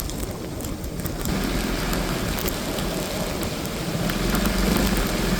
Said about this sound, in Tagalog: Ayan, ulan na.